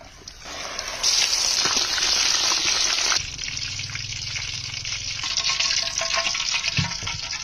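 Ripe bananas, coated in a batter of flour, sugar, cumin, ginger paste and salt, sizzle in a hot pan: a steady frying hiss with a louder crackling stretch in the middle, then a softer sizzle with small pops.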